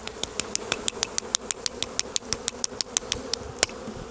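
Calm honeybees at an open hive give a faint, steady hum, with regular sharp ticking clicks repeating close by over it.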